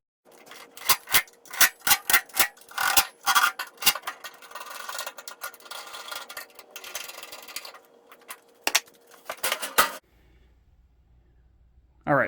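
Screws are cinched up with a long screwdriver while building a Camp Chef XXL vertical pellet smoker, giving close, quick ratcheting clicks and scrapes in bursts, then falling quiet near the end.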